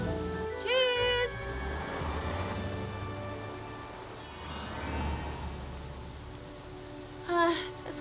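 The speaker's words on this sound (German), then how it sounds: "Es regnet so stark, ich kann kaum etwas sehen." Heavy rain falls in a children's cartoon about a little bus, a steady hiss of rain running throughout, with brief whistling musical or voice sounds rising over it.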